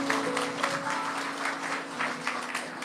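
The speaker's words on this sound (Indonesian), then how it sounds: "Kasih tepuk tangan untuk Anda sendiri." Church congregation applauding itself during a service, a steady wash of many hands clapping throughout with a faint sustained tone beneath.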